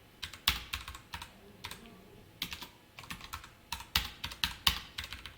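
Bursts of typing on a computer keyboard as SCSS code is entered, with quick clustered key clicks separated by brief pauses, close and fairly quiet, no talking.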